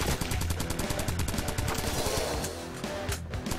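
Rapid, steady submachine gun fire in the top-down shooter Crimsonland, a continuous stream of evenly spaced shots at close range, loud and alone throughout.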